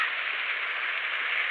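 Steady rain falls throughout, a dense even hiss with no pauses and no voices.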